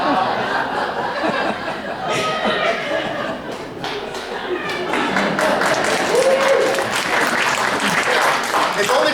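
Theatre matinee audience applauding, mixed with scattered chuckles and laughter, while a voice talks over the clapping throughout.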